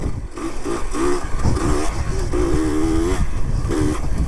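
A three-wheeler's engine screaming through repeated high revs during a third-gear wheelie, loud and close, pitch climbing and dropping in quick surges with no talk over it.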